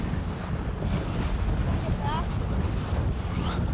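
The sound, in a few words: choppy ocean waves around racing boats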